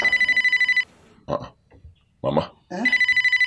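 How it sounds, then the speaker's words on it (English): A mobile phone rings inside a house in a repeating electronic pulse, stopping as a person calls out and speaks, then ringing again afterward. "That's your phone ringing inside the house."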